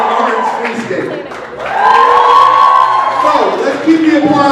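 Audience at a youth poetry slam breaking into loud cheering, whoops and applause after a poet performs, the roar swelling midway and staying full while a voice speaks over it.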